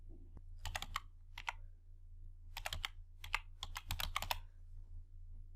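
Typing on a computer keyboard while entering dates into a spreadsheet, several quick bursts of close key clicks separated by short pauses over a low steady hum.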